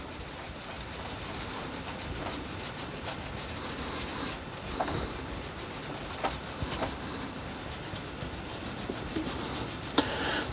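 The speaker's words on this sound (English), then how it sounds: "I'll just clean the moss off the trunk" Close, continuous rubbing and scraping as moss is scrubbed off a spruce bonsai trunk, a dense, steady abrasive hiss with occasional sharper scratches, no talk.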